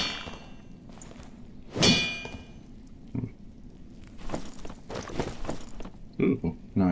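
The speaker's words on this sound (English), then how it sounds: "every time I pull out a potion, it makes a little bell noise" A bright metallic clang rings out as a potion is pulled out in a video game, one clear bell-like hit among softer clanks, thumps and bursts of game noise, with no talking.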